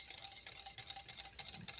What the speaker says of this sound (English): So I'm going to go ahead and just start whisking it.